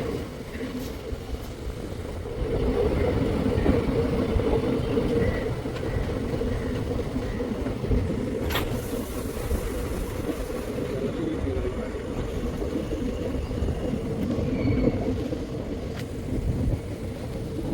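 A passenger train travels on the rails toward Kollam railway station, a steady low rumble and rolling drone heard from on board that continues for the whole stretch, with a few faint clicks and knocks above it.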